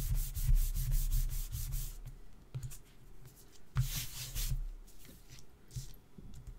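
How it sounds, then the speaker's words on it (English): Back of a stamped paper card being rubbed by hand, close, soft sanding-like strokes in a quick rhythmic burst, a pause, then another few rubs and light handling noises. "And then just turn it over and just give it a quick rub from the back."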